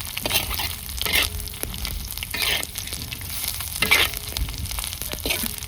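Bombay duck (bombil) chutney sizzles steadily in a pan as it is stirred, with rhythmic scraping strokes roughly every second over a constant frying hiss.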